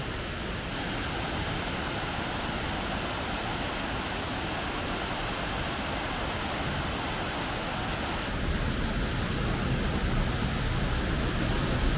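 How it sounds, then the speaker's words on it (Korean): A waterfall pours continuously beside a pavilion along a scenic walking trail in Jecheon, a dense, loud, unbroken rush of falling water that swells slightly toward the end, with no talking. "떨어지는 그런 폭포 같은 곳이 있어 가지고"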